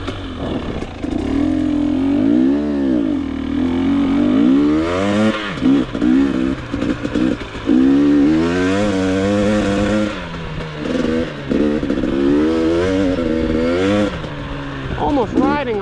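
A GasGas EX250 dirt bike revs hard while being ridden, loud and close, its engine note climbing and dropping repeatedly through gear changes and throttle blips for the whole stretch.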